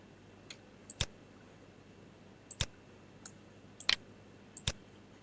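Computer mouse clicking during Revit MEP ductwork modeling, sharp isolated clicks in small clusters, some doubled, spaced a second or more apart against a quiet room background.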